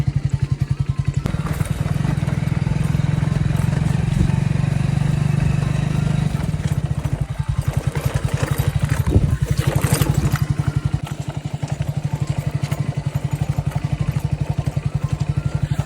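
A motorbike engine rumbling past on a mountain road near a market on a cloudy hill, a steady loud drone with clattering bursts, swelling and then fading as it goes by.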